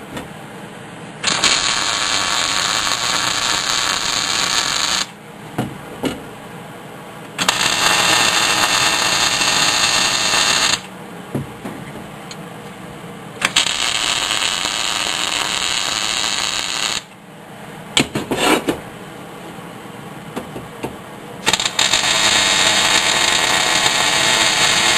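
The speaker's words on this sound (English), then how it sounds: "I'm going to put a couple of tacks in the middle of everything else, and then we'll go back in and start welding it." Tack welding steel parts of a mini woodstove, heard as four long bursts of steady, loud crackling hiss, each several seconds long, with brief pauses and small clicks between them. Nobody speaks.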